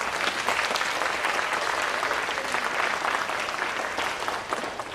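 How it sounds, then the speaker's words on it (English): An audience at a high school junior college night applauds the college admissions officers with dense, sustained clapping that fills the room for several seconds and tapers slightly at the end. "so if we could all just give them a round of applause."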